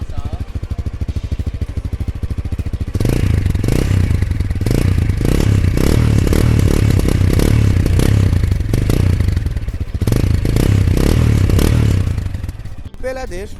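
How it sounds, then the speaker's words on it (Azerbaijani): A Zonsen RA1 motorcycle exhaust heard up close, a loud rhythmic thumping idle that picks up into repeated throttle blips before settling, with no talk over it. "Egzoz səsinə biraz yaxından qulaq asaq."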